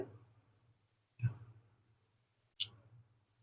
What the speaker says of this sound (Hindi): फादर का नेम एंटर करने के बाद नेक्स्ट के ऊपर हम क्लिक करना है।